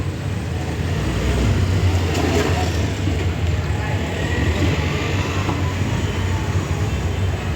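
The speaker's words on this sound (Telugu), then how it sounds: "చూడండి ట్రైన్." A small ride-on train at Deccan park rolls past with rumbling wheels and carriage clatter, steady and fairly close, while a voice talks faintly over it.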